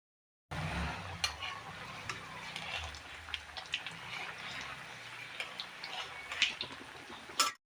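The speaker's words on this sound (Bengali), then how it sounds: "বাকি ফুলগুলো আমি এইভাবে ভাজা করে নেব।" Stuffed pointed gourd (kakrol) fries in oil in small batches, giving a quiet, continuous sizzle dotted with sharp crackles and pops and no talk.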